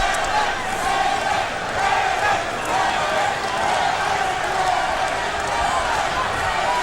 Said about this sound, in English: Lewis's supporters in the crowd chanting for him, Lennox, Lennox, Lennox.